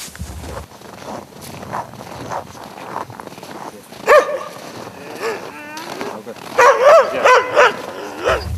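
Hunters' dogs bark in a few short, loud bursts, with one sharp bark and then a quick cluster of yips near the end, over people talking throughout.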